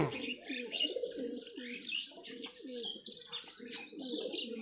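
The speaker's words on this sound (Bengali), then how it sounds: "তো এগুলো হচ্ছে উড়ানোর কবুতর" Giribaj flying pigeons coo continuously in a soft, rolling chorus with occasional chirps, steady and moderately close.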